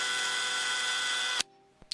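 A power drill whines steadily as it bores a hole through a plastic camera body cap, then cuts off abruptly, followed by a brief clunk.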